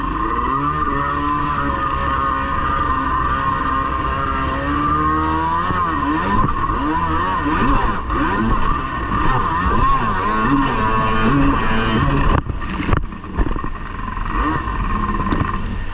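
A Yamasaki X2 boat runs at full throttle on its maiden voyage, its engine roaring steadily and loud with a high whine throughout, briefly dipping near the end before surging again.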